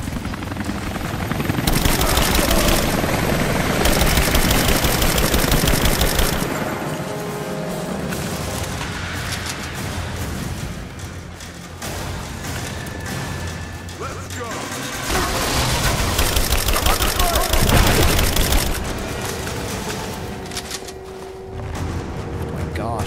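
Gunfire in Rise of the Tomb Raider: loud bursts of shots and crashing impacts come in waves across the scene amid rumbling action noise, with brief quieter stretches and occasional talk.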